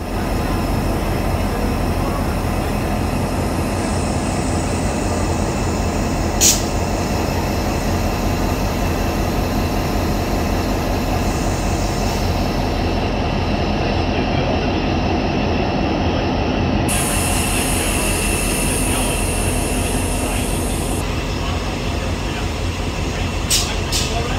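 A continuous loud rumble of a train arriving at Freshwater station in Australia, steady and close throughout, with brief high squeals and faint voices in the background.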